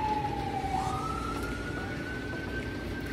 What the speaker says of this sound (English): it wouldn't be a day here if I didn't have sirens